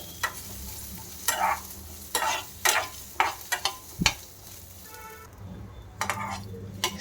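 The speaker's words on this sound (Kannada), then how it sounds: "ಸಣ್ಣ ಉರಿನಲ್ಲೇ ಇಟ್ಕೊಂಡು ಈ ರೀತಿ ಫ್ರೈ ಮಾಡ್ಕೊಳ್ಳಿ" Chicken pieces frying over a low flame for a Marathi-style chicken biryani, with quiet steady sizzling broken by several sharp stirring and scraping knocks against the pan, alone without talk.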